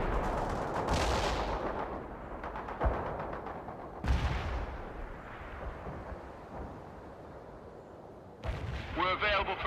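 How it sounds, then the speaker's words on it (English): Mortar fire in the World in Conflict video game, with several deep booming blasts spread across the clip over a continuous rumbling battle backdrop, loud and close, ending in a sharper burst of crackling impacts. "Zulu 9 are firing mortars."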